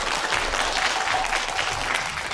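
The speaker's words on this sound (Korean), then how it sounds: "큰 박수 부탁드립니다." Audience applause fills a Korean forum's opening session, a dense, steady wash of many hands clapping at close range for the full stretch, with no voices over it.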